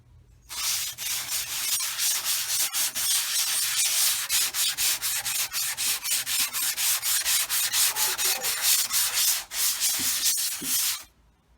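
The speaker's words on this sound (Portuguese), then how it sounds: "Estou lixando para ver como que fica o acabamento." Loud, close sanding: rapid, rhythmic back-and-forth strokes of abrasive paper rubbing acrylic putty on a laminated wooden door, continuing steadily for about ten seconds.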